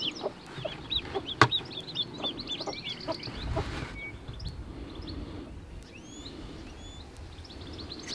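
A broody hen inside her wooden coop, giving soft, repeated low clucks at close range, some brief sharper calls in between, with other chickens faintly audible in the background.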